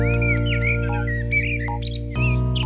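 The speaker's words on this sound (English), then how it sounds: "What is it, little bird?" A little cartoon bird chirps in quick, high, whistly tweets over sustained background music, near and clear.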